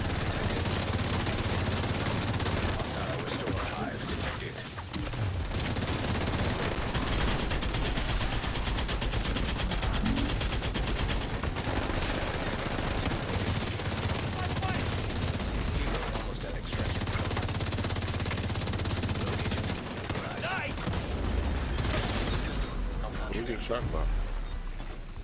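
Gunfire with shock bullets in The Division 2 shooter game, dense overlapping shots and bursts running almost nonstop through the span, with voices talking over the combat.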